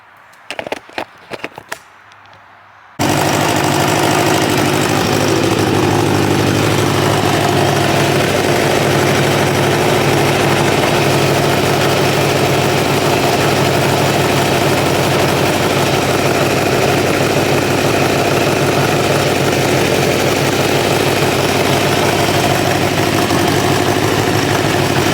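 After a few quiet seconds of faint handling noise, a 1986 Kawasaki Ninja 600R motorcycle engine fires up. It settles into a loud, steady idle recorded close by, with no one talking.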